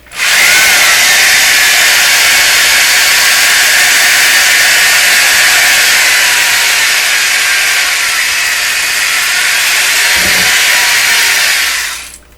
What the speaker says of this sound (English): the rubber itself doesn't grind well, so it's hard to grind it past, grind into the soft stuff